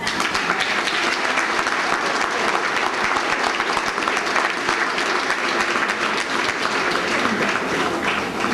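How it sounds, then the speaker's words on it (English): A crowd at a Columbus Day dinner dance applauds for a former mayor, a dense, steady wash of many hands clapping that stays loud and even throughout. "I'd also like to have a round of applause for former Mayor White."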